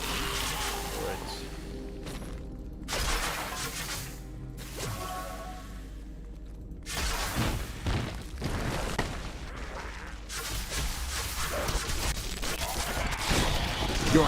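Bursts of blasts and booms with whooshing rushes and rapid gunfire-like crackle in the video game Civilization VII, loud and repeated across the span, with some voice mixed beneath.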